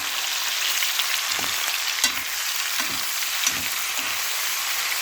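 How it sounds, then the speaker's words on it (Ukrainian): Steady hiss of food sizzling in a frying pan, close up, with a few soft scraping stirs and taps. "Сковородочка наша вже шкварчить"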